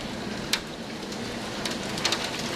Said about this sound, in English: Well, we need the rain.